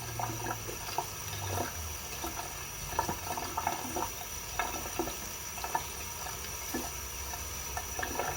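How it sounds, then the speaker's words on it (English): Tap water runs steadily in a kitchen while chokos from an organic garden are peeled, a continuous wash of splashing with scattered clicks and knocks of handling, moderately close and without talk. "Now I'm just going to run some water as I peel these."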